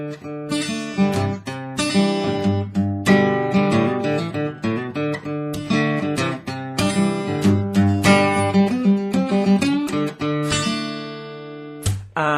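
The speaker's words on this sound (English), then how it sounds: "Okay, so we're going to look at how to play the intro riff now, which sounds like this." An acoustic guitar plays a bright picked riff with ringing chords and quick single-note runs, steady and close, with no voices.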